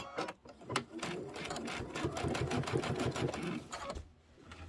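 Sewing machine piecing a quilt top, a rapid rhythmic needle clatter running steadily for several seconds with brief pauses at the start and end, close and fairly quiet.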